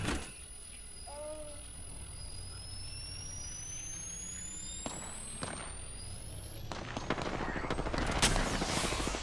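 Gunfire from an enemy team in the Apex Legends video game, bursts of shots crackling over a steady game backdrop and a rising whine, growing denser and louder toward the end.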